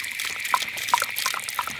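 Water runs steadily from an outdoor sillcock tap opened with a vandal-proof key, a close, continuous splashing trickle with small drips and gurgles on top, with no talking over it.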